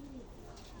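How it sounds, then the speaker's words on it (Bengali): A prized red male pigeon gives a short, soft coo at the start, followed by faint background murmur. "আরও উন্নত জাতের দেখেন কবুতর আছে।"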